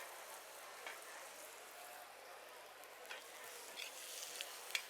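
Butter with garlic and rosemary foams and sizzles in a hot pan, a soft, steady crackle with a few brighter pops and ticks near the end, heard alone without talk.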